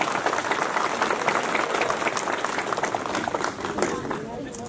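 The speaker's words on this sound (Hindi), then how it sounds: "ताली देना चाहिए" A dense crowd claps and cheers at a political rally stage with three parties together, a loud, continuous wash of applause throughout, with voices mixed in.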